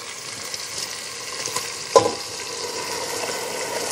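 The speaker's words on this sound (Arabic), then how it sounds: "أبتدي هلأ أضيف الرز" Rice hits a hot pan already holding shrimp and onion, giving a steady soft sizzle with light scraping stirs and one sharper clatter midway.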